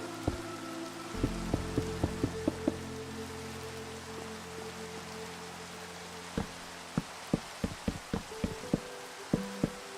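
Rain falls in a Minecraft world, a steady soft patter with scattered sharp drip-like ticks and a low tonal drone beneath, fairly quiet and with no speech.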